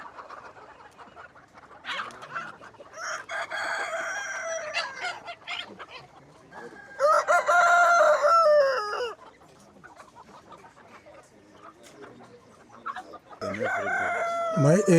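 Chickens on a dairy and poultry farm cluck and crow in loud, overlapping bursts, with a rooster's crow standing out near the middle and again at the end, and faint sounds of the yard between the calls.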